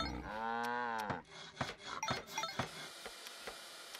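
A cow in the Farm Frenzy 4 farming game gives one clear, drawn-out moo, followed by a series of short clicks and clinks, all fairly quiet with no speech.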